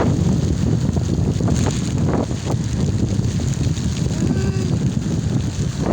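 Strong wind at sea buffets the microphone on a small boat in a steady, loud roar, with gusts rising and falling and water sloshing underneath.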